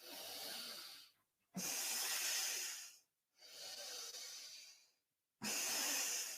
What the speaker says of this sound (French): Accompagnez-vous de votre respiration qui doit faire du bruit, un peu comme moi.